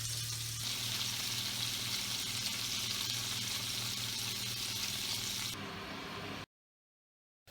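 Rissoles and capsicum sizzle steadily in a frying pan, a dense close crackle of hot fat with a low steady hum beneath, cutting off abruptly into silence near the end.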